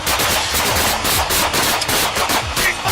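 Rapid automatic gunfire across a parking lot during a police confrontation, loud and continuous, bursts running together with no pauses for nearly three seconds.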